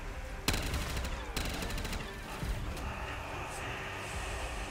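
Video game gunfire rattles out in sharp bursts, with two loud volleys near the start and scattered fainter shots after, over a busy rumbling game soundscape.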